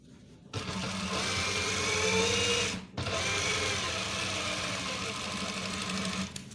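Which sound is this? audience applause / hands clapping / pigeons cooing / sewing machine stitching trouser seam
sewing machine stitching trouser seam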